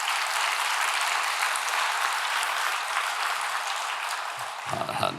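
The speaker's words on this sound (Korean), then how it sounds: "한번 뜨거운 박수를 격려해요" A church congregation breaks into warm, dense applause that fills the sanctuary steadily before fading, with a brief voice at the very end.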